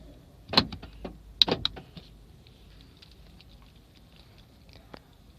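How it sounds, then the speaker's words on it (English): Central locking on a 2016 Nissan X-Trail 2.5 (T32) actuates in a quiet cabin: two quick mechanical clunks of the door locks with a brief buzzing whir, followed by faint ticks. "Central locking."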